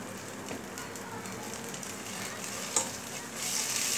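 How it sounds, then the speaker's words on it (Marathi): Asafoetida frying in hot oil for pav bhaji gives a soft, steady sizzle close by, with faint stirring and a slight rise in the crackle toward the end. "हिंग पण व्यवस्थित हे फ्राय करून घ्यायचं आहे"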